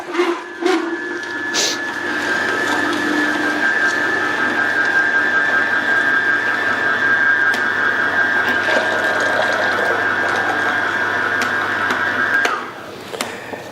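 A juicer runs steadily while pressing ginger and apple, a continuous mechanical whine with a high sustained tone and light grinding, close and even for over ten seconds before cutting off, with no talk.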